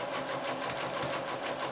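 A sewing machine running a zigzag stitch along a fabric seam, a steady close mechanical whir with a fast rapid pulse, continuous and unbroken for the whole short stretch.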